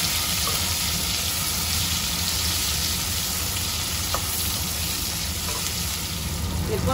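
Chopped tomatoes frying in a hot pan for a chicken curry, a loud dense sizzle with steady hiss throughout and faint occasional clicks, no voices.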